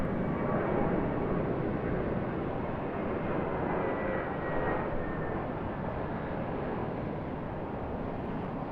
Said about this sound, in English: It's got a Jetstar Airbus A380 coming off of 34 left.